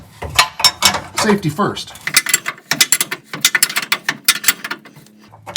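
A ratchet snugs up bolts on a 1947 Ford hot rod, with quick close clicking bursts and metallic clinks in uneven runs, while someone talks briefly at the start.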